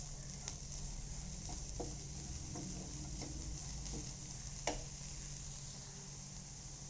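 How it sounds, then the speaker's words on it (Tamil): Vegetables sautéing in a pan for a millet rice dish, a faint steady sizzle under low hum with scattered light taps and scrapes of stirring. "ஸோ இப்போ வந்து இதை நல்லா நம்ம வதக்க போகிறோம்"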